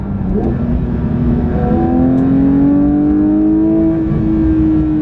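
A manual Porsche GT3 engine revs hard toward 9000 RPM, its loud, close howl climbing steadily in pitch and holding for several seconds with no talking.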